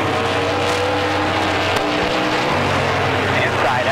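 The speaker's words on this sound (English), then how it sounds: "Both of those guys sliding those race cars out of the corner." NASCAR Pinty's Series stock cars race at the Velocity Prairie Thunder 250 in 2016, engines roaring continuously and loudly as they slide out of a corner, with trackside commentary running over the noise.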